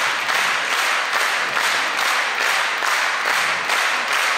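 Sustained applause from a large concert or ceremony audience for a boy performer, dense and steady clapping with slight rhythmic swells, loud and close with no talk over it.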